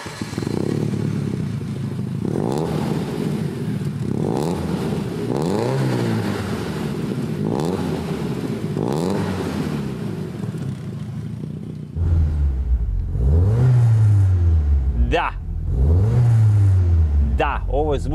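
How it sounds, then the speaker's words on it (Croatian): A Lancia Delta Integrale turbo car engine revs in a resonant space, with a series of loud blips rising and falling in pitch, and heavier, deeper revs toward the end. "Ovo je zvuk od turbo automobila i ne tražite kod njega zvuk iz auspuha"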